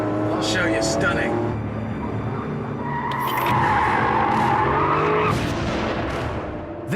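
Tyres on a Porsche 911 Carrera 2S squeal in a long sustained skid, loud and close with engine noise beneath, rising in the middle before easing off.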